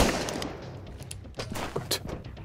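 Gunfire rings out in the survival video game Sunkenland during a raid: several sharp shots with short bursts crack over a noisy background, fairly close and loud, with no talk.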